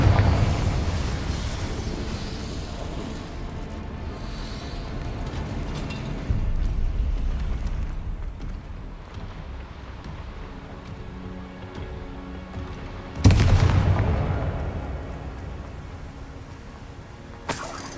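Confringo fire spell blasts go off in Hogwarts Legacy gameplay: two loud, sudden explosive bursts spaced several seconds apart, each trailing into a low rumbling decay over a steady background.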